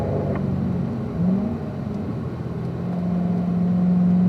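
A car on a race track downshifts entering an S section; a continuous engine drone fills the cabin with a brief rising rev blip, then settles into a steady hum.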